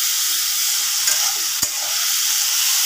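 Black cumin (nigella) seeds crackle and sizzle in hot oil with onion and chilli, a steady loud frying hiss with a couple of brief stirring knocks partway through, no voices.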